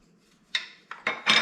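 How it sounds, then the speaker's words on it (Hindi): Metal spoons clinking together in a home kitchen while chicken and potato tikki are being made, a few sharp bright clinks spaced out, then a denser clatter at the end, close by with no talk. "ये मेरे चमचे,"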